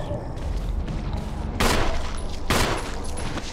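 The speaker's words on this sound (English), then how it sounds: "I was trying to go for a headshot, that's why I was shooting upwards" Two loud gunshot bursts in the Resident Evil REmake video game, fired about a second apart over steady low background game ambience, with no talking.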